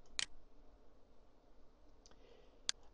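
Two sharp mouse clicks, one near the start and one near the end, with a faint click between them, over quiet room hiss, as the OK button is pressed in Microsoft Word 2003.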